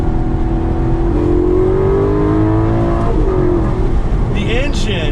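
An Alfa Romeo 8C Competizione engine drones and revs up through the gears, loud and close, with a voice speaking over it near the end.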